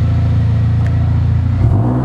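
A remapped Mercedes A45 AMG engine idling close by, a steady loud low rumble that shifts and blips slightly near the end, with no talking.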